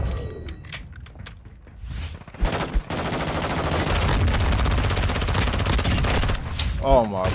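Rapid automatic fire from a VEL 46 submachine gun in Modern Warfare II, sustained bursts over game footsteps and mechanical clatter, loud and close.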